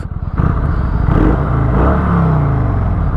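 A Kawasaki Vulcan 900 Classic cruiser motorcycle engine rumbles loudly and steadily up close, with a deep throbbing idle and a slight rise in revs.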